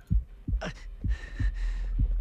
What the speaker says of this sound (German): Mein Herzschlag.